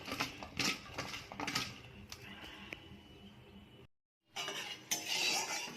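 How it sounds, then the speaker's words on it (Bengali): Soaked dried fish is mixed by hand with turmeric and salt in a bowl, giving close, faint clinks and soft squelchy stirring in short bursts, broken by a brief moment of silence. "নুন দিচ্ছি, দিয়ে মাখিয়ে নেব।"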